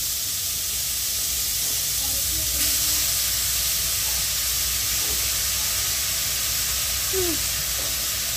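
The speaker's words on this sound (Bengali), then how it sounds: "ঘিটা গরম হয়ে গেছে, দিয়ে দেওয়া হবে গাজর।" Grated carrots fry in hot ghee with a cardamom pod for gajar halwa, giving a loud, steady sizzle and hiss that fills the whole span, with faint voices underneath.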